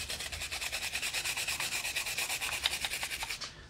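A brush scrubs a rusty wrench after a vinegar soak. Quick, even back-and-forth strokes repeat several times a second, close but fairly quiet, and stop abruptly at the end.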